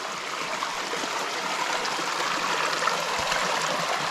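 Spring water in the mountain village of Kojur, northern Iran, pours in a steady, close, gurgling stream that is continuous and unbroken, with no voices.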